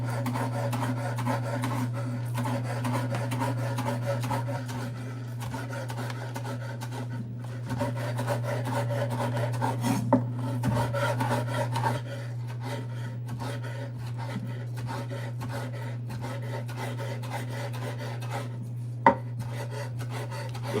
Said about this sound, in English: We'll cut up the scallion first